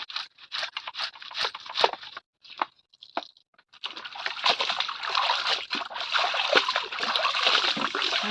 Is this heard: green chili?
no